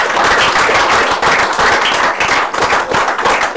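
A church congregation applauding and cheering loudly, dense sustained clapping with voices mixed in, close and continuous throughout.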